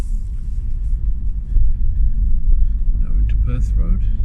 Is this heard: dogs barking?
no